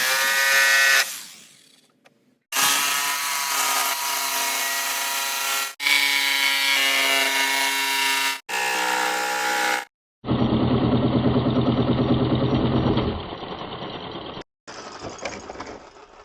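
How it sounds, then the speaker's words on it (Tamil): A jigsaw cuts through PVC pipe during a home-built windmill project: several loud, buzzing motor runs of a few seconds each, separated by short pauses, with the tone shifting as the blade moves through the pipe. "இப்போ அந்த லைனுக்கு நேராக வந்து நம்ம ஜிக்ஸா மிஷினை யூஸ் பண்ணி அந்த பைப்பை வந்து நம்ம கட் பண்ணி எடுத்துக்கலாம்."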